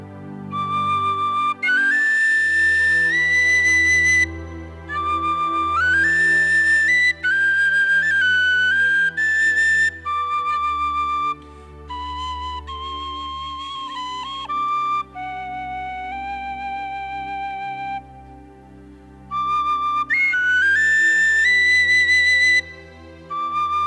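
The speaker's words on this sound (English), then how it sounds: "how I'm using reverb in a mix by using this penny whistle" A penny whistle played in a large room, a bright, lilting melody over soft low accompaniment, its notes ringing out with a spacious echo.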